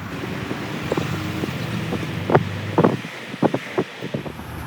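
Steady wind rushes and buffets the microphone on a busy downtown street in Fillmore, California, with scattered thumps and gusty bursts standing out near the middle.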